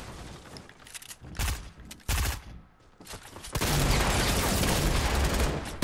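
LMG machine gun fire in Fortnite comes as short rapid bursts at first, then a long sustained volley of loud shots that continues to the end.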